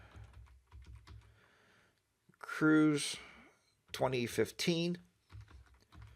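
Soft keyboard clicks at the start and end bracket someone speaking as an album name is typed on a computer keyboard, the typing quiet and rapid.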